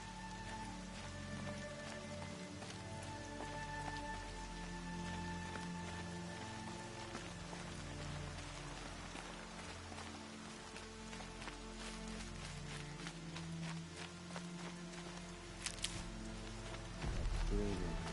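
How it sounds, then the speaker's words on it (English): Steady rain pours down across a wet outdoor area in the video game Horizon Zero Dawn, a continuous hiss of drops on surfaces alongside a low ambient drone, with a brief louder burst near the end. "Rain's not so bad."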